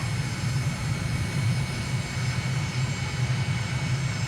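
A steady, droning aircraft engine hums continuously at an even level in Microsoft Flight Simulator during a downwind approach, with no talk over it.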